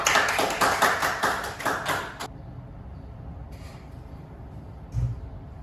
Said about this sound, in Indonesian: Beri tepuk tangan buat Zofia.